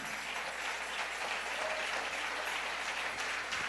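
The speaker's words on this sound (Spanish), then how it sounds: "Denle ese aplauso al Rey." A church congregation applauds during a sermon, a dense, continuous sheet of clapping from a large crowd, even in loudness throughout.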